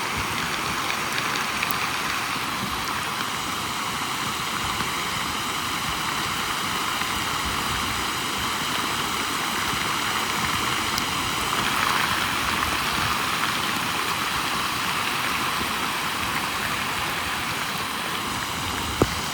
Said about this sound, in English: Rain picked up again.